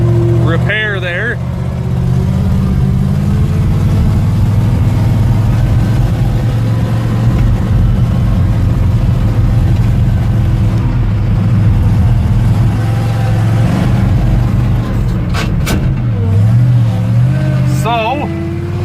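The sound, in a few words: pickup truck engine running with choke partially stuck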